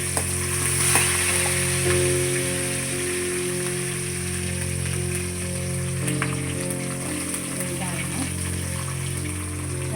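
Curry leaves and asafoetida frying in hot oil along with mustard seeds for wheat rava upma, a loud dense crackling sizzle that holds steady throughout, with a constant hum underneath.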